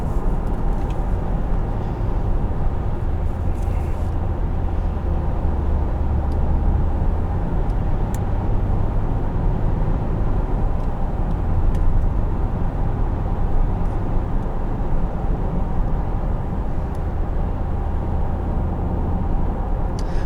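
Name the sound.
2014 Infiniti QX60 accelerating at full throttle with kickdown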